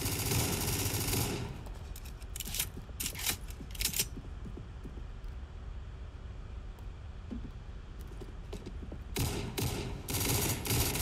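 FMG9 gunfire in the game Arsenal, dense rapid bursts of automatic shots at the start, then sparser scattered shots, then another loud sustained burst near the end, close and loud with no talking.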